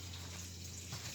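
Water rushes and gushes steadily close by as it drains from a filter, a continuous hiss of flow with a low hum underneath.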